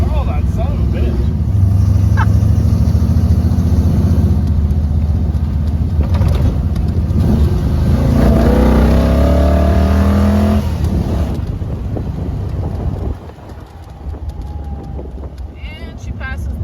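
An old Jeep drives with a steady engine rumble and road noise, then slows to a stop under braking, while people talk over it throughout.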